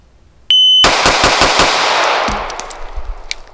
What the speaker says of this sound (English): at the beep, I'll just dump the rest of the mag